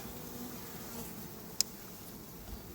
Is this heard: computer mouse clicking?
no